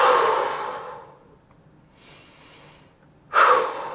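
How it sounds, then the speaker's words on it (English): Deep audible breaths during a standing quad stretch: a loud exhale at the start, a quieter breath in the middle, then another strong exhale near the end, close to the mic. "and just breathing here."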